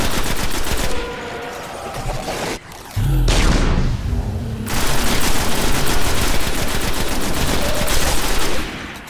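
Loud, sustained machine gun fire in Destiny, rapid continuous bursts close up with a brief pause and a heavy boom before the firing resumes.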